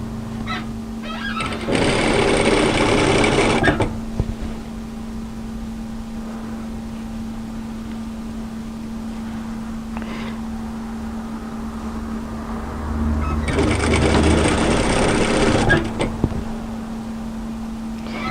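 A sewing machine stitches a jacket button placket in two short loud bursts of rapid whirring, separated by a long quiet stretch with faint handling noise.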